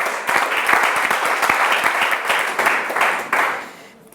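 A church audience applauds together at a Bible institute class, a dense, steady wash of many hands clapping close by for about three and a half seconds before tapering off.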